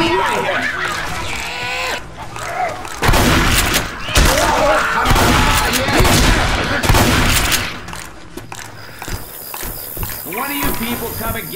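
Gunfire rings out in Left 4 Dead 2's Dark Carnival highway stage, dense bursts of shots clustering through the middle of the stretch amid game noise and overlapping voices.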